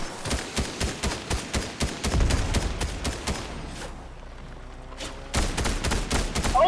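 Fortnite gunfire: a rapid rhythmic string of sharp shots, a brief pause with a muffled thump, then another dense burst of close, loud fire.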